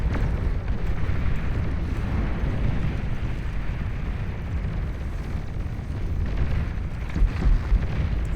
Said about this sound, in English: EMP missiles continuing to connect all over the place.